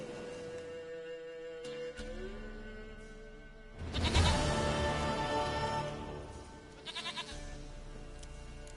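Goat bleating in The Witcher 3: a loud drawn-out bleat in the middle and a shorter stuttering one near the end, over low in-game background ambience.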